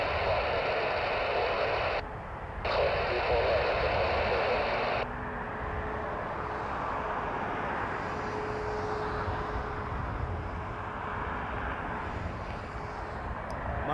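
A WestJet Boeing 737 MAX 8 at Toronto Pearson gives off a steady, distant jet roar with a broad hiss that drops away partway through, leaving a softer, continuous engine rumble.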